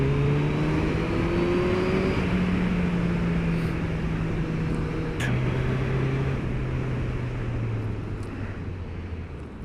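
A 2021 Suzuki Hayabusa motorcycle accelerates past traffic on a road, its engine climbing steadily in pitch through the gears with heavy wind rush, loud and close, without talking.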